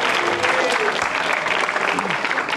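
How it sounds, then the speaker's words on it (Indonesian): Live comedy-show crowd clapping for a celebrity guest being roasted, a loud, dense burst of applause mixed with crowd noise, close and steady for under three seconds, with a voice talking over it. "boleh tepuk tangan"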